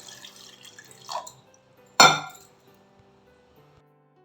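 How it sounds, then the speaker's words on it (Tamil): Water is added to a gooseberry juice mixture with mint and curry leaves, giving a few short splashes and drips with one sharp pour-like splash in the middle, close and otherwise quiet. "அப்புறம் வந்து வாட்டர் சேர்க்குறேன்"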